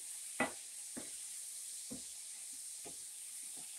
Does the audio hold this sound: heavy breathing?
no